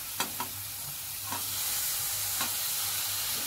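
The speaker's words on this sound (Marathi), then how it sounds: "आपल्याला हे सगळं स्लो गॅसवरती परतून घ्यायचं आहे." Onion and tomato sautéing on low gas, with a soft steady sizzle and a few sharp spatula scrapes against the pan, close and fairly quiet, no talking.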